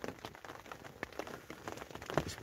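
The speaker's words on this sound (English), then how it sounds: "because it's been raining all night, it's still raining just now" Rain patters steadily on a tent in a Scottish forest, soft scattered drops tapping the fabric at close range with no one speaking.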